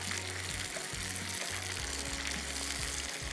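Green chili paste frying in a pan on a cooking show, a continuous dense sizzle with a steady low hum underneath, heard alone without talk.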